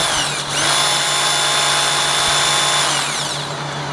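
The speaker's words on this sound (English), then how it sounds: "You gotta drill the hole first." A power drill boring a hole during repair work on a 1971 Gravely 432 tractor with a cracked transmission, whirring steadily and loudly close by for about four seconds, with a slight dip in speed near the start.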